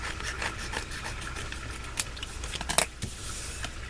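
Scissors cut through a fabric scrap in a series of close crisp snips and rustles over a low background hum, with one sharper cluster of clicks near the end.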